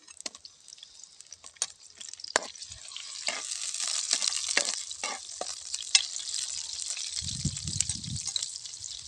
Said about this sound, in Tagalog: Mayroon na po tayong nilagay na mantika. Lagyan natin ng bawang, sibuyas